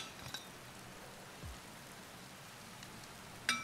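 Rain falls in the MXGP 2020 motocross video game as a steady, faint hiss of drops on a surface, broken by a few soft clinks and a brief bump.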